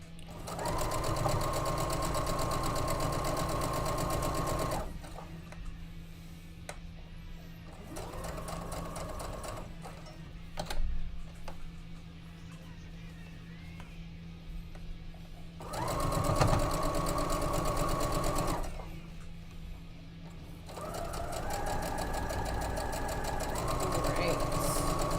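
A sewing machine runs in steady bursts, a fairly quiet, even whirring hum that stops and restarts several times over about twenty-five seconds, with pauses between runs and speech present.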